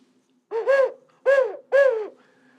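An owl-like hoot from a bird figure among toy frogs sounds three times in fairly quick succession, each call clear and moderately loud against a quiet background, with no talking.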